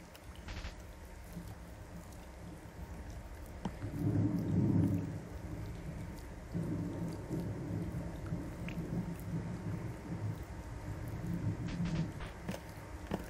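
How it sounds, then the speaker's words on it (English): Rain falling on an umbrella in the video game Omori, a steady soft patter with low rumbling swells, heard alone without talk. "The sound of falling rain as it hits your umbrella."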